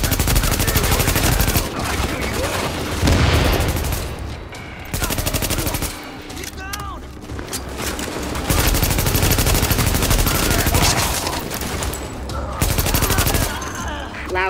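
Sustained heavy gunfire with automatic bursts and single shots crackles in The Division, loud and close, with a blast-like thump early on, brief pauses between volleys and shouting voices mixed in.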